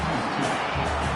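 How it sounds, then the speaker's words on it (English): Football stadium crowd roaring as one broad, loud, continuous rumble of many voices during a drive, with no distinct individual sounds standing out. "And wow, listen to this crowd noise. This stadium is vibrating."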